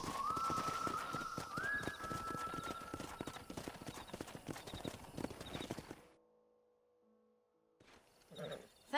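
Horse hooves clip-clop steadily in the Red Dead Redemption video game over a background of birds and ambience, then the sound cuts out abruptly and only quiet tones are left.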